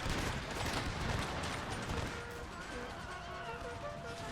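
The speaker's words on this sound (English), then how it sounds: "they're doing the militia fire as well" Militia musket volley fire in the Empire Total War video game: a dense crackling burst of many shots in the first two seconds, then a fading rumble with a few faint tonal sounds.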